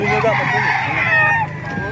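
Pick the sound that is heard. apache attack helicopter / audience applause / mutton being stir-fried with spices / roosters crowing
roosters crowing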